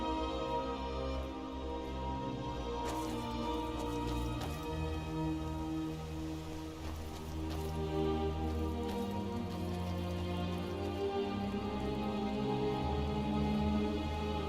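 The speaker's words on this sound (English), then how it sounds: "raining again" Steady rain in the video game Skyrim patters continuously under a layered, droning background hum, with no voices.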